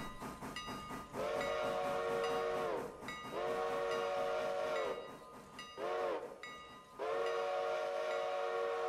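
A railroad locomotive on the Whittier local sounds its horn in several long blasts with pauses between, over the rumble and hiss of the train reversing nearby, no talk.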